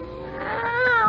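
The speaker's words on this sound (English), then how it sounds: "Oh, I'm sorry I stepped on you, Kitty." A cat gives a single drawn-out meow in a radio drama, a close, loud, wavering cry that rises in pitch toward the end.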